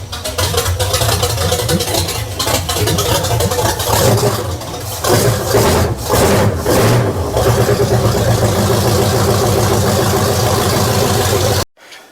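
A Square Body Chevrolet K20 pickup engine runs close by with a rough, throbbing idle and occasional revs, loud and steady until it cuts off abruptly near the end.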